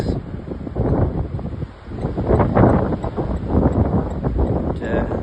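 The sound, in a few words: strong wind blowing during a storm at Morgan Bay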